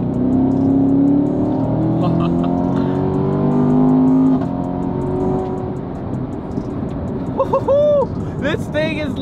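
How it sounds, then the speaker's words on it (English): A C7 Corvette accelerates hard and shifts through its gears, the engine note rising and dropping under close, loud cabin sound, with a person talking over it and a brief sharp burst near the end. "did you hear that shift?"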